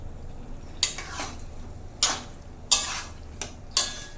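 Fried prawns tipped into a cucumber curry in a cooking pan, with several sharp clinks and scrapes of a utensil against the metal at irregular intervals over a low background hiss.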